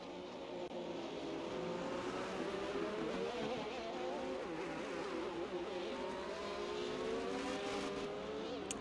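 Race cars in a PC racing game roll through a formation lap at Monza, a steady pack of engine drones with shifting pitches, continuous and moderately loud.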